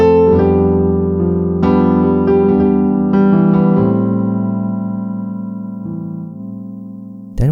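Piano playing a chord progression on white keys in a rhythmic pattern, sustained chords with repeated re-struck attacks over about seven seconds, fairly loud and alone, fading toward the end.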